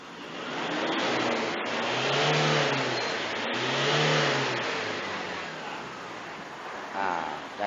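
A Toyota D4D diesel engine, previously smoking black and running poorly, revs up and down in two broad swells at close range, then settles to a steady idle.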